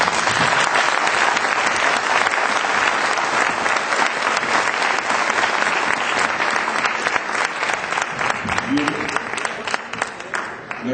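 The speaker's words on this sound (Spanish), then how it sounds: "pues despedirlos con un aplauso" A conference audience applauds panel speakers with dense, continuous clapping that stays loud and steady throughout and eases slightly toward the end.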